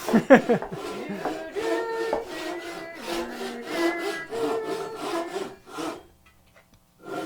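A Japanese pull saw cutting through wood with steady back-and-forth rasping strokes, close and fairly loud, pausing briefly near the end before one more stroke.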